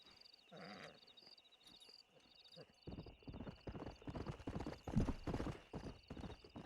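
Steady clip-clop of a stallion's hooves at a trotting rhythm in the video game Red Dead Redemption, loud and close, under a continuous high tone, with a brief neigh near the start.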